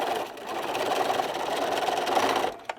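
Sewing machine stitching back over a fabric seam on a popcorn bag, a steady close whirring run of rapid needle strokes that cuts off near the end.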